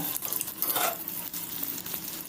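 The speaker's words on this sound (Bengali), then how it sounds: "আমি এক একটা চপ উল্টে পাল্টে লাল করে ভেজে তুলছি" Egg and prawn chops fry in hot oil on low heat, a soft steady sizzle with faint scraping and clinks as the chops are turned in the pan, quiet and close with no talk.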